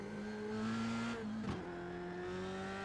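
An F3 race car in iRacing at Sebring holds a steady, droning engine note under load, with a brief dip and shift in pitch midway before the tone settles again.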